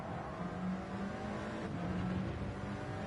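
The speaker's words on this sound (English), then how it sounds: "This grumbling Stuttgart V8." A Stuttgart V8 race car engine in the Gran Turismo 7 racing game, on a supercar race at Monza, holds a continuous grumbling drone at moderate level without clear revving peaks.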